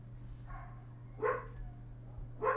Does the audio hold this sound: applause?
no